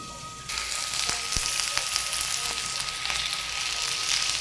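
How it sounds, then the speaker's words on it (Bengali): Sliced beans and potatoes fry in oil in a covered pan, giving a steady, close sizzle with small pops and crackles that swells slightly after the first half second. "এটা ভাজতে ভাজতে কমে আসবে"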